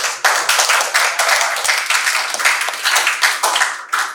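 A classroom group claps hands together during a lesson on interfaith and intercultural cooperation, with dense, steady applause lasting about four seconds before it trails off.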